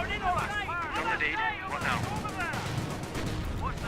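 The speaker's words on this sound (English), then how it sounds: "receiving a lot of damage there from the Bren guns" Repeated Bren gun bursts in the Company of Heroes strategy game, dense rattling gunfire and combat clatter continuing beneath a commentator's voice.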